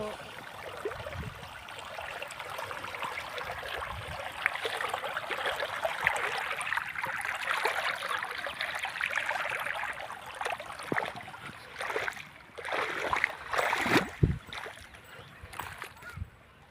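Water flows into a farm field through an opened gate, a gurgling, splashing rush heard nearby, building in the middle and turning choppier with scattered splashes toward the end.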